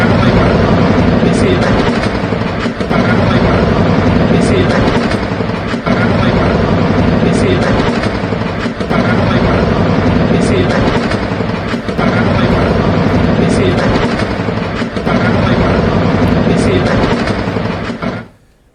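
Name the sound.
military helicopters including Apache during attack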